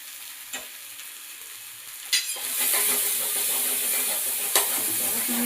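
Ginger and garlic fry in a pan with a loud, steady sizzle that swells after a few sharp utensil knocks, with stirring scrapes throughout and no talking.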